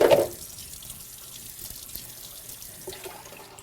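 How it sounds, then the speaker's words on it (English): Running tap water from a kitchen faucet while hands and a meat-handling knife are washed, a brief louder burst at the start settling into a steady, fairly quiet splashing flow with no talk. "We're going to just wash our hands because we just touched a bunch of meat. We're going to give our knife a wash."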